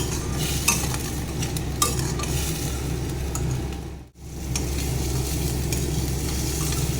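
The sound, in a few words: onions frying in oil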